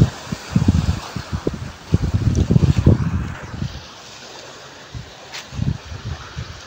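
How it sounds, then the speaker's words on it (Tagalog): Waves at high tide on the shore of Onuk Island break and wash in several rough surges, close and fairly loud, with wind buffeting the microphone between them. "So high tide ngayon, kaya you can really hear the waves."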